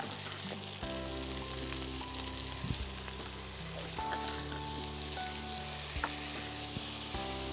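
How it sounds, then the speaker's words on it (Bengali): Sugar and salt frying in hot oil for a Bengali fish stew give a steady, close sizzle, with low tonal hum and faint stirring scrapes throughout. "চিনিটা ভাজার সময় দিলে ক্যারামেলাইজ হয়, সুন্দর একটা রং ধরে।"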